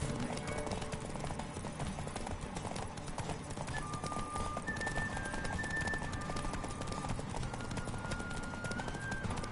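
Hooves drum in a fast galloping rhythm in the video game The Witcher 3, amid steady background noise, with faint whistling tones drifting over the top.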